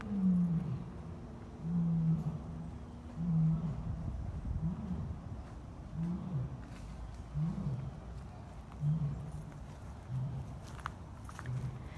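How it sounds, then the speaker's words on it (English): A lion roars in a series of deep, rhythmic grunting calls, repeating steadily at moderate distance with low ambient noise between them, at a big cat rescue sanctuary in Tampa, Florida. "You guys hear Nikita lion roaring?"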